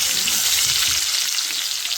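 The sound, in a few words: garlic frying in oil while stirred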